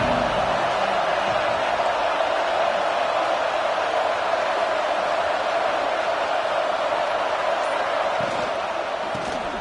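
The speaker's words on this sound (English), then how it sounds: "This crowd ready to make its presence known" A packed stadium crowd at an Alabama football game against Arkansas roars as a continuous, loud, distant-sounding wash of voices, steady for the whole stretch with faint commentary mixed in.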